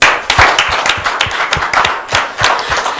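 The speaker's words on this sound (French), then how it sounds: "Ovation pour lui." An audience applauds in an ovation for a reverend at a Valentine's-themed televised youth gathering, dense steady clapping with sharp individual claps standing out, sustained and fairly loud throughout.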